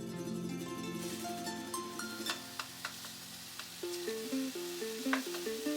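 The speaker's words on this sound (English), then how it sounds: "I am just sauteing the ground beef on the stovetop until it's fully cooked" Ground beef sautéing in a pan on a stovetop, a soft low sizzle with a few light clicks and scrapes, heard faintly beneath steady background music with no voices.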